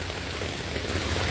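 Steady rain pours onto surfaces around the Ngau Wu reservoir streams in Hong Kong, a dense, even hiss that continues without break and has no talking over it.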